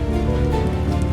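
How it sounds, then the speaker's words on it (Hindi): Steady, dense rain falling and pattering on surfaces, a continuous close wash of drops with no pauses. "बारिश में भीग जाएंगे आप"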